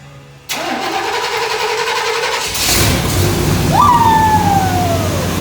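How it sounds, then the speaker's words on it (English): A 1990 Chevy Silverado truck engine cranks and catches after engine work and three months sitting, then settles into a loud close idle that rises with a rev, and a whine sweeps down near the end. "It was October of 2020 when I started my truck up for the first time in 3 months."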